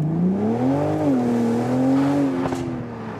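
A 2019 BMW Z4 M40i (G29) launches hard under launch control, its engine note climbing loud and close, dipping and rising again through a gear change.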